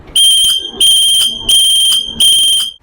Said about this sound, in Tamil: இப்போ ட்ரெண்டிங்ல இருக்க விசில் ஹார்ன் பார்ப்போம்.